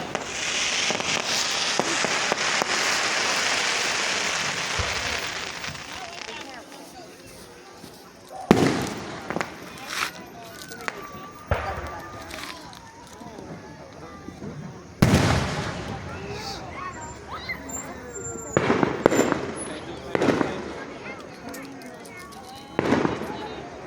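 Fireworks display at a 2024 show in Marion, Indiana: a long hissing burst gives way to a series of sharp, loud booms and crackles spaced across the sequence, with people talking and reacting in between.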